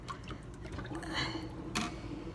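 Turkey brine water is poured out of a container, giving a continuous splashing, gurgling flow with a brief louder slosh near the end, close by and without speech.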